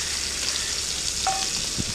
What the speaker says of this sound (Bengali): মাছটা খুব লাল করব না, হালকা করে ভেজে নেব